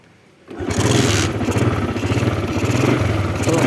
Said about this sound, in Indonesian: Kita pakai kick starternya. Kick starternya pakai sini ya